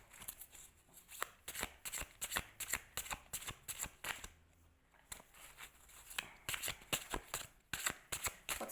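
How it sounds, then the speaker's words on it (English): A deck of tarot cards riffled and shuffled in quick rapid bursts, crisp papery flutters repeating close up with a short pause midway, no talking. "I'm going to take 3 more cards."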